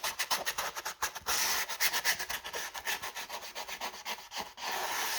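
Scrubbing dirt off a part of a 1996 Rockford Fosgate RFR 1410 subwoofer, a faint close rhythmic rubbing and brushing that repeats in quick strokes throughout.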